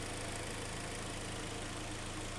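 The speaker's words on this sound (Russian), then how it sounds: "Ну что, двигатель работает, все хорошо." Hyundai ix35 with a G4KD petrol engine idling steadily, a constant low rumble with a faint regular tick, close and alone with no talk.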